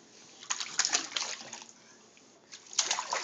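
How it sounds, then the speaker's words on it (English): A baby splashing water in a bathtub, bursts of slapping splashes and sloshing close by, two clusters separated by a short quiet pause, fairly soft overall. "this is the first time we've really figured out how to splash"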